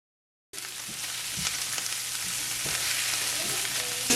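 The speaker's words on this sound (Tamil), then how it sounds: "இப்போ 2 நிமிஷமா இதில் வதங்கி கொண்டு இருக்குது" Onion, green chili, garlic and curry leaves sauté in a pan for a stuffed capsicum curry. A steady sizzle starts abruptly after a brief silence and grows slightly louder, with faint stirring clicks and no talking.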